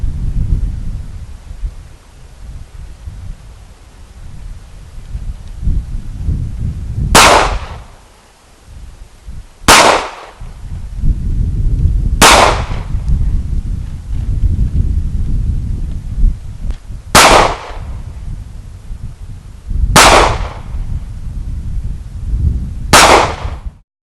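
Six sharp Taurus TCP pistol shots fired at an outdoor range at 7 yards, each a loud crack spaced a few seconds apart, with rustling and background noise between shots.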